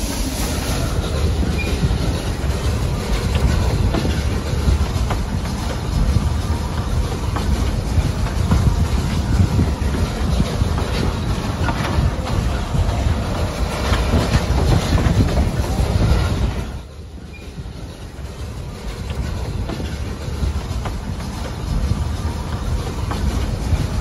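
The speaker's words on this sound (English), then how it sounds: "Heisler is seen coming back down grade into Roaring Camp before boarding the train and being shoved back up grade" A Heisler geared locomotive works a train on the Roaring Camp narrow gauge railroad, giving a loud continuous rolling rumble with wheel squeal and rhythmic clacking that drops away briefly partway through before building again.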